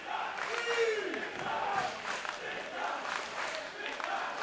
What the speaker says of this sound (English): Crowd coming alive for big time.